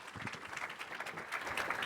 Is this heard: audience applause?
yes